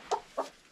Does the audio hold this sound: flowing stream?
no